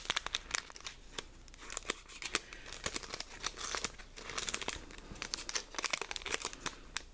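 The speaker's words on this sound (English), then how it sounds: "get them out of the little plastic thing here" Nail stickers being worked out of a small plastic package, close crinkling and crackling plastic in quick irregular bursts, no voices.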